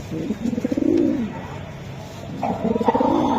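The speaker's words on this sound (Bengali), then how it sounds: "দুইটা কবুতর সুন্দর" Racing pigeons coo close by in two soft, rolling bursts, with a low murmur of background noise in between.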